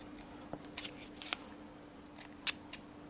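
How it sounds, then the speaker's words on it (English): Scissors trim excess thread from a sewing-machine-stitched watercolor paper craft piece, making several crisp, close, quiet snips at irregular intervals with no speech. "and cut off that excess thread"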